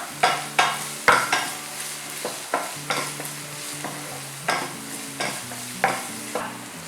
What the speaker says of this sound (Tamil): இப்போ இது எல்லாத்தையுமே நம்ம நல்லா சாட்டே பண்ணிக்கலாம்